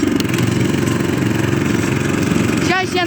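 A walk-behind tractor engine chugs loudly and close while driving over snow and ice, a rapid steady putter that briefly drops near the end as a voice speaks over it.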